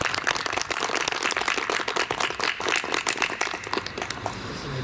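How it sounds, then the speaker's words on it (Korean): An audience at a Korean lecture claps loudly, a dense run of rapid overlapping handclaps sustained for several seconds, then thinning out toward the end. "큰 박수 부탁드립니다."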